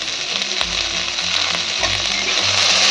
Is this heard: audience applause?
no